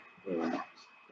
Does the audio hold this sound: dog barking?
yes